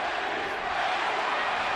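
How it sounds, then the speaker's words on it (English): Big arena crowd at a Manny Pacquiao versus Erik Morales boxing fight roars and chants for Pacquiao, a loud, dense, sustained wall of voices. "Pacquiao crowd chanting"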